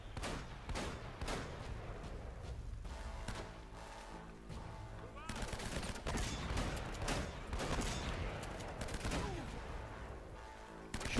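Gunfire in Uncharted: Drake's Fortune, an action video game: scattered shots and rattling bursts keep going throughout, layered over busy game noise at a steady, moderate level.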